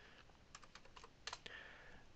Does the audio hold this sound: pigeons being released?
no